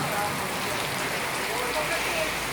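Heavy thunderstorm downpour with hail at Talad Thai market in Thailand, a dense, steady roar of rain and pelting hits that fills the whole clip at an even level.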